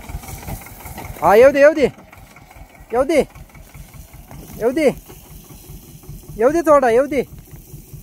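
A tractor engine idles with a steady low throb while reversing on a watermelon farm, running beneath short shouted instructions from a man nearby.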